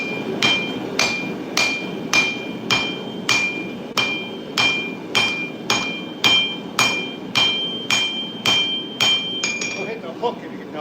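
A hammer strikes a steel khopesh blade on an anvil at a forge, with about fourteen loud, evenly spaced ringing blows in a steady rhythm.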